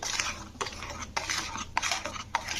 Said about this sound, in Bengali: চিনিগুলো দিয়ে এবারে নাড়তে হবে